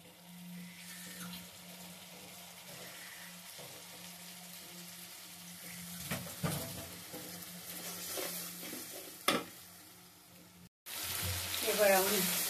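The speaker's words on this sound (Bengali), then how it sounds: "এবার আমি ভালো করে মশলাটা একটু কষিয়ে নিব" Spice masala sautéing in a pan gives a soft, low sizzle with occasional stirring scrapes, then a sudden louder burst of sizzle or running water near the end.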